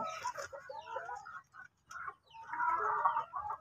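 Chickens cluck in short bursts around a breeding farm, near and moderately loud, with a brief pause before a denser run of clucking.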